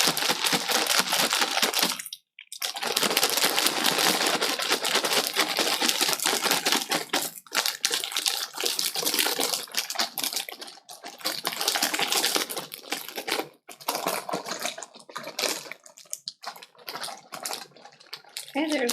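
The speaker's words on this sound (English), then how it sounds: "shake all the powdered sugar onto it" Powdered sugar is shaken onto Chex muddy mix inside a zipped plastic bag, producing a loud, continuous rattling and crinkling that runs nearly nonstop, with a couple of brief pauses.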